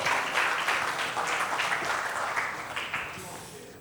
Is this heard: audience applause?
yes